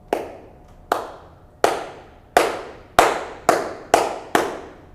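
Eight sharp handclaps ring out at a distance in front of a stone pyramid, each followed by a decaying chirping echo that sounds like birds; the claps come slowly at first, then more quickly.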